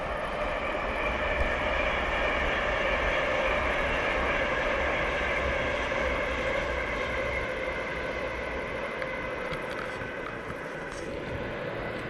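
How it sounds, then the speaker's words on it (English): A train passes close by for about twelve seconds, a loud steady rumbling roar with a continuous wheel and engine drone and no voices over it. "My goodness, another train."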